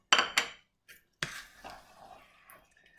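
A spoon stirs parmesan through a butternut squash, spinach and chicken risotto, giving a few sharp metallic clinks against the pan, then a softer scraping and shuffling that fades out, close and fairly quiet.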